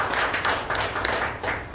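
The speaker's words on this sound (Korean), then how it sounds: "우리 박수합시다." A church congregation claps together during a Sunday sermon, a steady run of rhythmic hand claps in regular pulses, fairly close and continuous, with no one talking.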